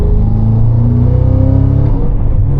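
A modified 835 hp Cadillac CT5-V Blackwing sports sedan holds a steady, loud, deep engine drone near the microphone, a continuous rumbling tone with little change over a few seconds.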